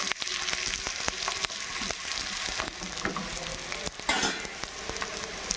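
A jowar and ragi flatbread roasting in a hot pan, producing a loud, continuous crackling sizzle with scattered sharp pops and ticks throughout.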